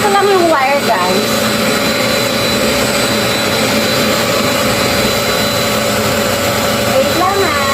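A household vacuum cleaner running continuously close up, a loud steady whooshing roar with a constant hum that briefly rises and falls in pitch.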